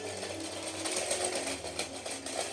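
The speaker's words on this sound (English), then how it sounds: "It's a moving train." A Lego train set under a Christmas tree running along its track, a steady, faint mechanical whirring motor hum with a fast, even rhythm and no talk.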